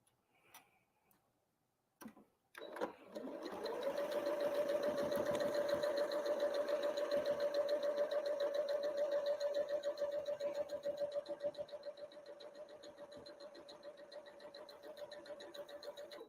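A sewing machine stitches quilt pieces together for a Halloween-themed quilt, starting after a couple of short clicks and then running in a steady, close whirring rhythm that eases slightly in speed toward the end, with no talking.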